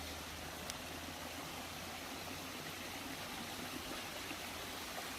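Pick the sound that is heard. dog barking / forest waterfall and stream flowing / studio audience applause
forest waterfall and stream flowing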